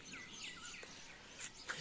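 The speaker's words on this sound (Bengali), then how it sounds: "কাকগুলা উড়ে বেড়াচ্ছে, পাখিগুলা উড়ে বেড়াচ্ছে" Crows and other birds chirping and calling faintly in the open from a rooftop, with short high tweets scattered over quiet background noise.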